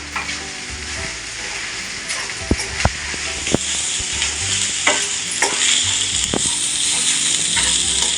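Leftover rice being mixed and stirred in a hot pan, a loud continuous sizzle broken by repeated knocks and scrapes of the spatula, with no talking.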